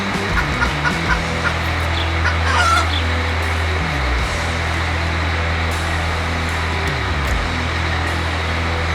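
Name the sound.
rubber chicken squawking in car exhaust pipe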